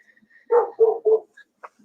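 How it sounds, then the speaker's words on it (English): A dog gives three quick barks in a row, close and loud, followed by a couple of faint yips with no one talking. "she barks to hear her ears rattle"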